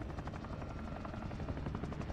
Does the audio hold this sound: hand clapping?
no